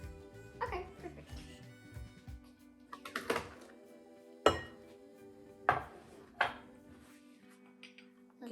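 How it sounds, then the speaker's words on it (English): Banana bread batter being mixed in a bowl, irregular clinks and knocks of a utensil against the dish with scraping strokes, close, amid laughter and children's chatter. "Give it a little mix."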